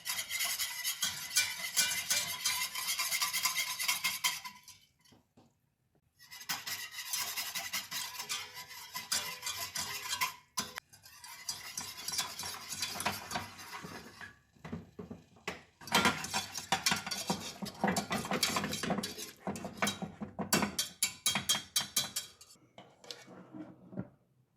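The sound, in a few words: whisking potato starch and water gel in a pan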